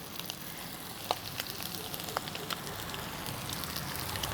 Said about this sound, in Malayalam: അടുത്ത ബാച്ചും കൂടി വറുക്കുക കേട്ടോ.